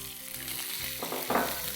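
A cup of vinegar onions dropped into a hot pan of oil with ginger and garlic for malai pyaz sabzi, giving a quick burst of sizzling and frying that swells sharply partway through, close by, with no voices.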